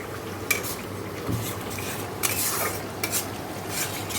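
Spices stir-fry in a pan under a soft, continuous sizzle, broken by intermittent scraping and clinks of a spatula against the metal. The sound is fairly faint, with no voices over it.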